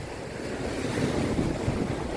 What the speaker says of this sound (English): Yeah, big waves.